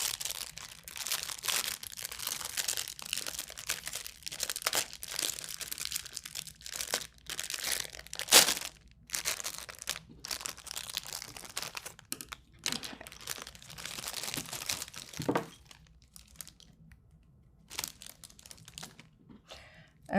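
Plastic packaging of a Cupixel acrylic art set crinkles and crackles while it is opened. Irregular close bursts of rustling run almost the whole time, with brief quiet gaps.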